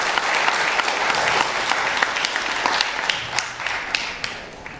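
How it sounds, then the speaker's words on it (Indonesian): Sustained applause fills a university graduation ceremony hall, a dense steady wash of many hands clapping from a large seated crowd, loud and continuous before tapering slightly at the end. "Boleh kita berikan tepuk tangan untuk kedua orang tua kita yang amat kita cintai"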